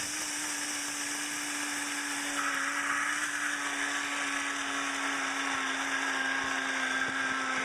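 An electric grinder grinds raw food ingredients toward a powder for a green elixir, running as a steady, high-pitched motor whine with a gritty whirring that stays close and constant throughout.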